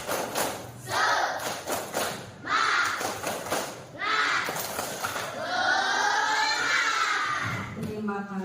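Schoolchildren in a classroom perform a spirit clapping chant, rhythmic bursts of group claps alternating with shouted chanting voices, loud and close, building to a longer sung phrase near the end.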